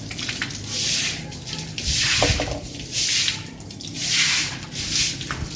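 Water splashing while a house is washed at home: repeated broad hissing sprays arrive in rhythmic surges about once a second, with drips and sloshing between them.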